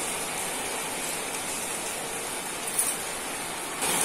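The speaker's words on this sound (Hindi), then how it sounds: "इस समय बारिश बहुत तेज होने लगी हमारे यहाँ" Heavy rain pours down in a steady, dense hiss of drops striking surfaces, continuous and close throughout, with a brief louder patter near the end and no voices.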